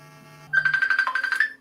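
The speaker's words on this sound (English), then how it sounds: "That's the phone. I'll answer that." A phone rings loudly and close by, a bright warbling tone that pulses rapidly for about a second and cuts in over a quiet low drone.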